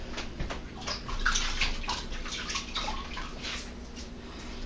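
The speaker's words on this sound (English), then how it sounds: "Let me rinse out the sponge." A paint sponge is rinsed out in water, with continuous splashing, sloshing and dripping close by, rising and falling steadily with no talking.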